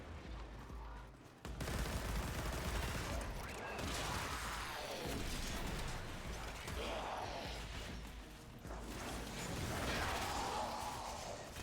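Rapid automatic gunfire from a fast-firing weapon in a video game, a dense, loud rattle of shots running continuously for several seconds with brief dips in intensity.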